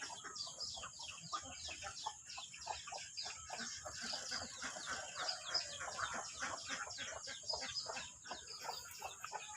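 Chickens on a Thai farm cluck and call in a busy, continuous chorus, with a steady high insect-like hum running throughout at moderate distance.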